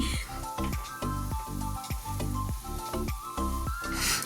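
Ivy gourd (kovakka) roasting in a little oil in a pan, a steady close sizzle broken by a regular series of scraping stirs and soft knocks that repeats through the clip.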